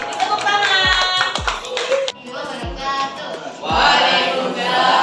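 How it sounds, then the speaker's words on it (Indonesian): Scattered hand claps from a small group in a school classroom during group presentations, loosely timed and mixed with overlapping voices and chatter throughout. "Tepuk tangan"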